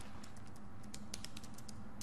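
Rapid keystrokes clatter on a computer keyboard in the video game The Division, a quick, uneven run of clicks over a low background hum, with no talking.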